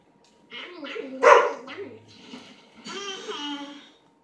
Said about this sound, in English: my gosh, my dog barking.